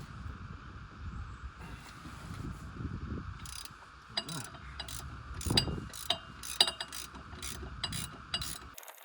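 A hand ratchet clicks in quick bursts while working the nuts on a Range Rover P38 propshaft, close up over a steady background hum, with a few louder metallic clanks.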